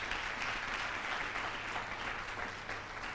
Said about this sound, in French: Ils méritent qu'on les applaudisse à nouveau.